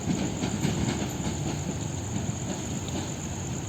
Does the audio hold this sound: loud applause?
no